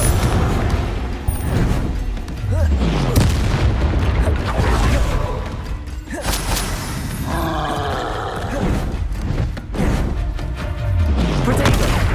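Spell explosions from the Confringo curse in the Hogwarts Legacy video game burst repeatedly in a busy battle, heavy booms and roaring blasts layered over constant combat noise and shouted spell calls.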